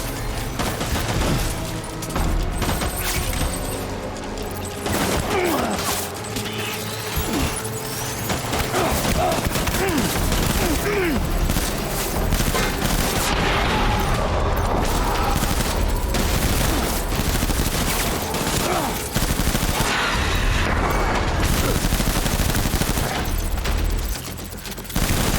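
Sustained assault rifle fire in Death Stranding rattles loudly and almost without pause, dense volleys of shots packed together with only brief gaps over a long stretch of combat.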